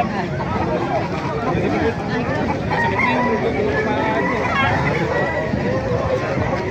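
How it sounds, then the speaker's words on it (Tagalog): Rooster crowing mixed into a busy crowd, with chattering voices and clucking fowl throughout, the crow partly buried in the hubbub; gamefowl such as Hennie, Red Kelso and Lemon breeds. "Magandang manok, oh."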